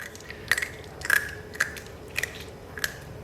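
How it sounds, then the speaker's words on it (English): Crisp crunches from someone biting into glass pork belly crackling, with five or six sharp, separate cracks spread over a few seconds, close and clear, and no talking. "We want to hear the crunch."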